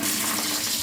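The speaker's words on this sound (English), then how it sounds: "I'm just going to wash my hands properly" A tap runs steadily as hands are washed in a kitchen, a brief close hiss of flowing water with no talk.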